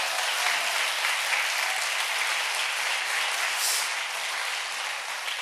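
Steady applause from a church congregation at an autumn revival service, a continuous dense wash of clapping held at an even level for the whole stretch with no voices over it.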